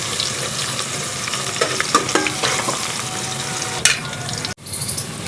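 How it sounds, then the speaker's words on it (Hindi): Onions frying with cumin in hot oil for an arvi (taro root) curry, a steady loud sizzle with occasional stirring scrapes and clinks of the spoon, no voices. "इस सबको फ्राई कर लेंगे अच्छी तरह से।"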